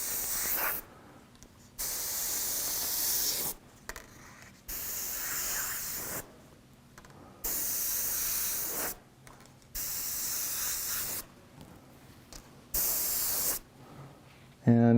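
An airbrush sprays candy2o paint through a stencil while painting realistic fire, giving sharp bursts of airy hissing, about seven separate sprays of a second or two each, with quiet gaps and faint handling noises between them.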